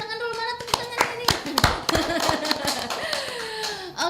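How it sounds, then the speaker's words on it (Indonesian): A small community gathering claps in sharp, distinct close-up hand claps, irregular and bunched, while people talk and call out over the clapping throughout. "Oke, tepuk tangan dulu, mana tepuk tangan ini?"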